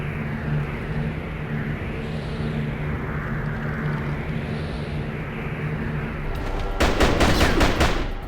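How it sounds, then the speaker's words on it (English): Video-game gunfire from a shooting boss fight in Jet Li's Rise to Honor comes as a rapid burst of loud shots near the end, over a constant roaring game background. "And now we have a shooting boss fight, which is pretty annoying, actually."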